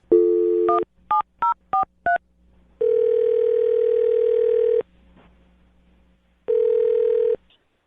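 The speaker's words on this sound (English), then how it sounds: "I'll dial his phone number right now" Telephone line: a short dial-tone burst, then five quick touch-tone dialing beeps, followed by two long, steady ringing tones separated by silence, all clear and close.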